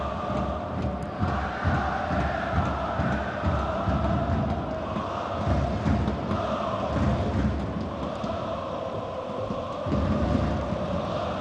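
A football stadium crowd at an Asian Champions League group match, Shanghai SIPG against Kawasaki Frontale, a broad continuous roar at moderate level, steady throughout with slight swells and no clear voices.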